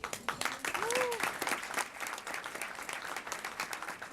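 Applause from an audience at a STEM award ceremony honoring students and educators, a steady wash of clapping with a brief tonal sweep and some voices mixed in.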